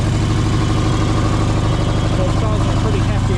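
A Fox Body Mustang that sat for over fifteen years idles roughly with a hefty exhaust leak from a leaking smog pump, a loud, steady, close rumble with rapid low pulsing that continues throughout.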